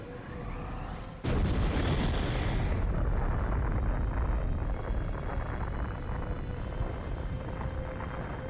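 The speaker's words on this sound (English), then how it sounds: "His death caused nuclear explosions?" In God of War, Ares' death sets off massive explosions: after a quiet moment, a sudden heavy blast gives way to a sustained roaring rumble that slowly eases without fading out.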